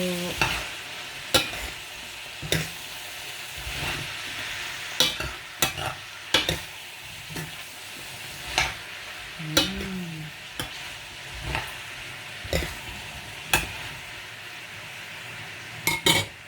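Chayote and ground pork fry and sizzle in a pan while a utensil stirs and scrapes through it, with repeated sharp clinks against the pan at an irregular rhythm, loud and close, and no talking.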